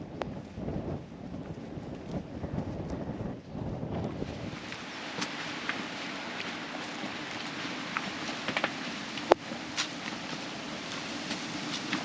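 Steady outdoor wind rushing and buffeting against the microphone at a wild campsite in the Lake District, with low rumbling gusts early on and a constant hiss throughout, no voices.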